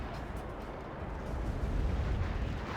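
Hellfire missile explosions in the real-time strategy game Act of Aggression form a dense, continuous low rumble of blasts that swells louder midway and keeps booming with no voices over it.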